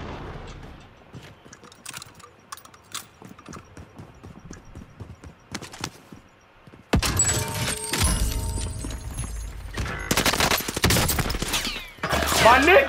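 Gunfire in Call of Duty: Modern Warfare, starting with scattered light clicks and taps, then dense loud bursts of shots and impacts from about seven seconds onward, with a brief pause before a final heavy volley.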